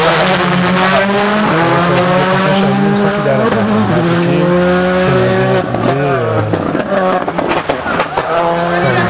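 A rally car runs along a stage at the Rallye des Grands Fonds, its engine loud and close with rising and falling revs and some tyre noise, while a commentator talks over it throughout.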